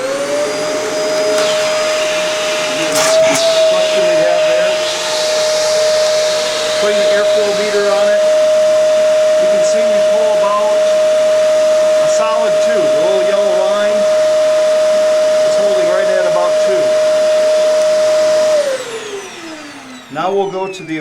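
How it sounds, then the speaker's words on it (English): A Shark vacuum cleaner runs continuously and loudly during a suction test, its steady motor whine holding a single tone for about eighteen seconds before it winds down, with handling noise and some voice beneath it. "So we're going to put both vacuums to the test. On the Shark,"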